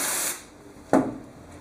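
A short hissing burst of aerosol spray, followed after a pause by a sharper, louder spritz that fades quickly.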